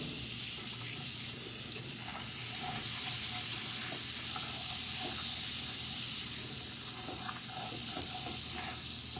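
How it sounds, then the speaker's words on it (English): Butter melts in a pan used for searing fish, sizzling and frying steadily while a utensil scrapes across the pan bottom in light, intermittent strokes. "I'm going to melt this butter. And I'm going to scrape the bottom of the pan while it's melting."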